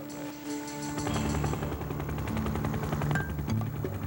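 A helicopter carrying skydivers toward a rustic camp near Angel Falls thumps with rapid, steady rotor chop and a droning engine, loud and close throughout.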